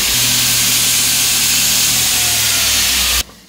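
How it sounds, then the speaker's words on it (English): An old Addy belt grinder runs steadily with a loud, constant mechanical drone and airy hiss, then shuts off abruptly near the end, leaving quiet room tone. "So this is the old Addy grinder here."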